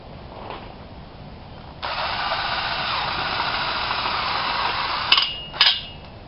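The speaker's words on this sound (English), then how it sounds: "put another screw in there" A cordless drill driving a screw into a greenhouse roll-up side curtain, a steady whirring buzz lasting a few seconds, then two short bursts as the screw seats.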